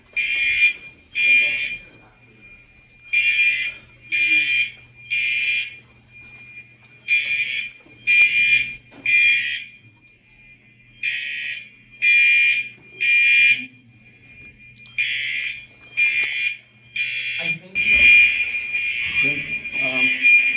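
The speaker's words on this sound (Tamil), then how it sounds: "எங்கள் அப்பார்ட்மெண்ட்டில் ஃபயர் அலாரம் அடிக்க ஆரம்பிச்சிருச்சு." A high-rise apartment building fire alarm blares piercing beeps in repeating groups of three, loud and close, with a voice speaking briefly near the end.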